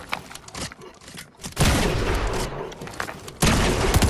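Gunfire in a video game, bursts of rapid shots and booms that start after a quieter opening and return louder near the end, with a voice faintly present beneath.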